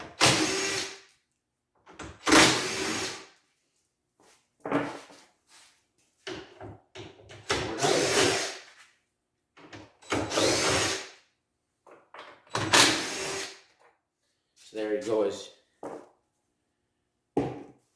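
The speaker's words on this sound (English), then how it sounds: "it really took no time at all to remove those 10 bolts with the impact driver" Impact driver removing ten bolts from the front fascia of a 2019-2022 Polaris RZR XP 1000, close and loud, in about a dozen separate bursts of hammering whine with short quiet gaps between them.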